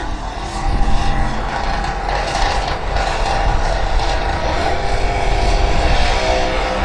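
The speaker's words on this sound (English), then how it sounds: "John Webster, on the other hand, twin turbos, Brad Anderson Hemi in there, of his own design." Twin-turbo Brad Anderson Hemi doorslammer drag cars making a pass, a loud continuous roaring engine wash filling the whole stretch, steady and close with no break, no talk.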